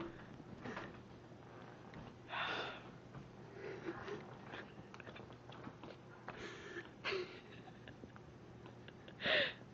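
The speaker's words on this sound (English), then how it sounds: "She's snoring." A dog sleeping on a couch gives soft, intermittent snorting snores, a few louder breaths spaced several seconds apart against a low steady background.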